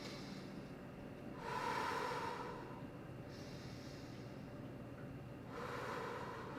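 Slow, deep breaths during a hip and psoas stretch, two audible inhale-exhale swells a few seconds apart, soft and close against a quiet room.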